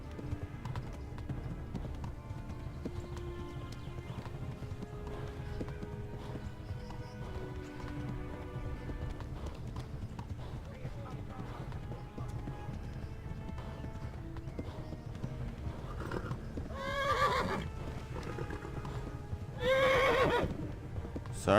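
A horse in the medieval video game Kingdom Come: Deliverance gallops with steady hoofbeats under game music and ambience, then gives two loud, shrill neighs near the end.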